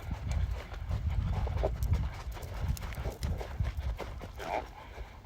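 Horse cantering on the counter lead during flying lead change training, its steady three-beat hoofbeats thudding close by on arena footing, with faint voices now and then in the background.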